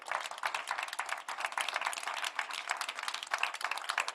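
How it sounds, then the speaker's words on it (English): A round of applause from an event audience, dense scattered clapping from many hands at moderate volume, continuous and fairly even for several seconds with no talk. "so Christine, Fabien, and let's not forget to give a big round of applause to our manager, GM, Caroline."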